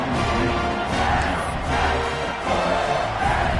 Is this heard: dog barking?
no